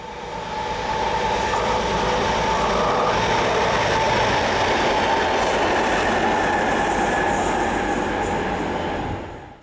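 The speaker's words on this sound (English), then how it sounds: "three Class 77 diesels head north on the slow lines" Three Class 77 diesel locomotives pass on the slow lines at Duffel, a loud sustained roar of engines and wheels on rail rising quickly, holding steady for several seconds, then cutting off.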